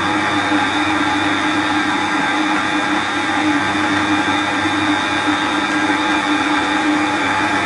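Electric stand mixer whisking egg yolks and sugar at low speed for a chocolate génoise sponge, a steady, loud, unbroken whirring drone that holds evenly throughout with no talk over it.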